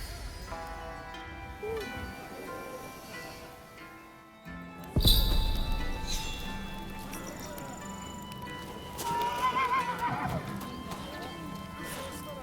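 A horse in the video game Rise of the Ronin whinnies and its hooves clip-clop over the game soundtrack, with a sharp neigh midway and more hoofbeats later.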